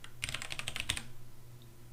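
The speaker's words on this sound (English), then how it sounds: "you can see as soon as I stop typing" Rapid typing on a computer keyboard, a quick burst of clicky keystrokes lasting under a second that then stops, leaving a quiet low hum of room noise.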